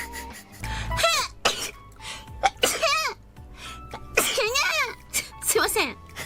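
Several sneezes from a Hololive VTuber, some high-pitched and squeaky and others breathy, come in quick bursts separated by short pauses, close and loud, with bits of voice between them.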